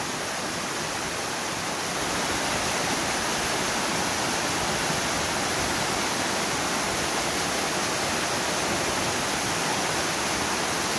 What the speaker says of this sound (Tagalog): lakas ngayon ng tubig, oh